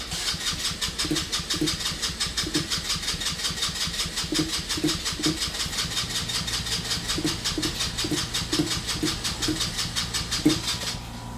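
A small single-cylinder engine on an abandoned go kart turns over with rhythmic pulling strokes. A fast chugging cranking beat runs close and steady without fully catching before cutting off abruptly at the end.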